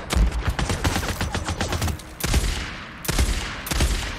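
Sniper rifle fire in the video game Days Gone: loud, sharp gunshot bursts crowded together in the first two seconds, followed by three more widely spaced heavy shots, with no talking.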